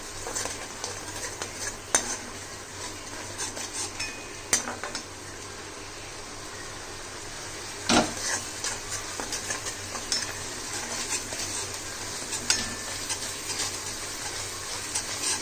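Bottle gourd peel paste cooking in a pan, stirred with a utensil that scrapes and taps at irregular moments over a soft, steady sizzle.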